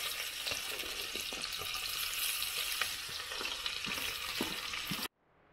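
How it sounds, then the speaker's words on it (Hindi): Onion frying in hot ghee gives a steady, dense sizzle that runs evenly for about five seconds and then cuts off abruptly, with no voices. "हमारा घी देख सकते हो गर्म हो चुका है। अब हमें प्याज डालना है।"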